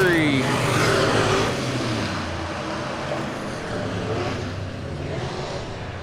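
Super stock race cars roar around the dirt oval at Lebanon Midway Speedway during a heat race, a dense continuous engine drone with a car sweeping past early on, steady and loud throughout.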